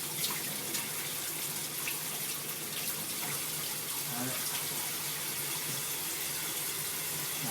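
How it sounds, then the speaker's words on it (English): Water running steadily from a kitchen tap into a sink while food is rinsed and peeled, a continuous close splashing hiss with occasional clatter, no talk over it. "Now, running water is not necessary"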